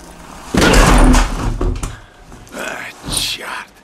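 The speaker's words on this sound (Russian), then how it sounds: "Ничего не остается, придется выбить дверь в ванную." A bathroom door being kicked in within the video game Heavy Rain: a loud heavy thud and crash, followed by softer knocks and rattling, with a voice murmuring over it.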